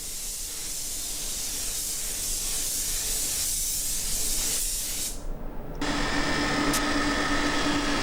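Spray gun applying transparent base coat to a custom-painted car in a shop, a loud steady hiss of atomized paint that cuts off briefly and resumes with a sharper, brighter spray.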